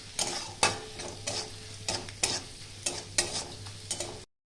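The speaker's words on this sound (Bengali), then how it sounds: "একটু ভেজে নেব আমি।" Salt and turmeric fry in a pan for a greens curry, stirred in about nine regular scraping strokes over a low continuous sizzle. The sound is close and moderately loud, with no speech, and cuts off abruptly.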